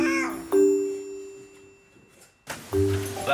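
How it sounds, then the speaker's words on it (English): A cat meows close by with a long sustained call, followed after a quiet gap by a sudden burst of noise and a second shorter meow. "Oh, look, he's left a cat here."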